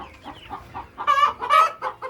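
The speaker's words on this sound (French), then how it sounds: "Ah mais écoutez ça, c'est le concert dans le poulailler là." Hens cluck inside a henhouse, a loose run of soft clucks building into two louder, rising squawks before easing off, close by with no talk.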